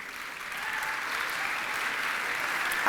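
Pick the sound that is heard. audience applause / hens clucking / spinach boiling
audience applause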